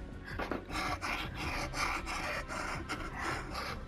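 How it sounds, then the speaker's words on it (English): V-Buck gift cards rub together close up, making a continuous dry, papery scratching with uneven rhythmic strokes and no voices. "Can you hear my V Buck card rubbing together?"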